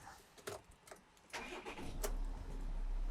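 A Volkswagen Amarok's 3.0 TDI V6 diesel engine with side-exit exhaust and no silencers cranks with a few whirring turns, then catches and settles into a loud, rough, steady rumble close by.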